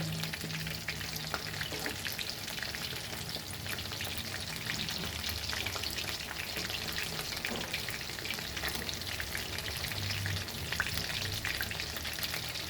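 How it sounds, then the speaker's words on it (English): Chicken lollipops deep fry in hot oil over a medium flame, giving a steady, dense bubbling sizzle that holds at an even level throughout, with no voices. "Fry this till golden fry on medium flame."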